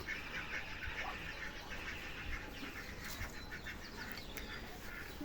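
A steady wash of outdoor garden noise with faint, repeated duck quacks scattered throughout, somewhat distant, no one speaking.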